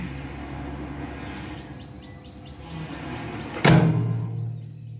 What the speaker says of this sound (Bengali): একটু শব্দ হলো, তার মানে এখানে ব্রেকার ওপেন হয়ে গেল